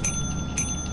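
Bell rung in the video game Lethal Company, a bright ringing tone struck twice in quick succession over a low rumbling background.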